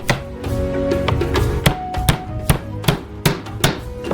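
Peeled garlic cloves crushed on a board in a home kitchen, a series of sharp, close knocks and thuds, roughly ten firm strikes at an uneven rhythm over a continuous background hum, with no talking.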